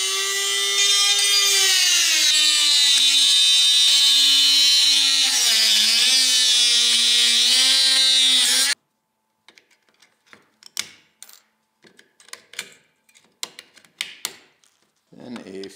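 A power tool cutting plastic spars off the chassis of a 2019 1:14 scale Carson forklift: a loud, steady high whine that sags and rises in pitch under load for about nine seconds, then stops, followed by scattered light clicks and handling noises.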